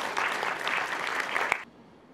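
Audience applause at a signing ceremony in Le Moule, a thick burst of clapping that holds steady and then cuts off abruptly, leaving near silence.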